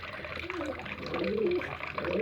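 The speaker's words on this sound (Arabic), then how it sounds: "انت بتملى لهم دلوقتي الميه اهي، ميه نظيفه" Water pours from a tap into pigeon water trays with a soft, continuous trickle and splash, while someone talks over it.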